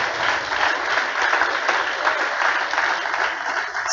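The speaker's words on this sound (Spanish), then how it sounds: "Dele un aplauso fuerte al Señor" Strong applause from a church congregation praising the Lord during a sermon, steady and sustained throughout without a break, fairly close and loud.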